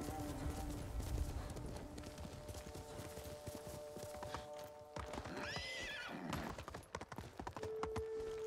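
Horse in Ghost of Tsushima with clopping hooves under ambient music, then a loud whinny rising and falling near the end.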